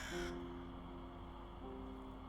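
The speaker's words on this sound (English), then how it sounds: "And another crow." A single harsh crow caw from the video game The Charnel House Trilogy rings out at the start, followed by a low steady hum and faint tonal drone carrying on underneath.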